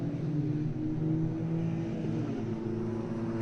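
Race cars dueling closely on the circuit at Gelleråsen Arena, a steady loud engine drone with layered exhaust notes holding throughout, no distinct pass or surge standing out.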